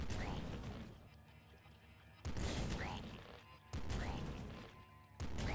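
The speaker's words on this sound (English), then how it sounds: "just keep firing this down the hall" Weapon fire in the top-down shooter game Nuclear Throne (Ultra Mod), shot down a hallway: three sudden loud blasts, each fading into a crackling, rumbling tail, with no voices.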